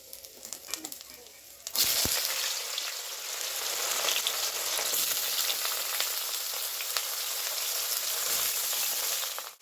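Hot oil bubbling and spitting in a pan at home, a loud, dense crackling sizzle that bursts in after a quieter opening with a faint voice and then holds steady until it cuts off at the end.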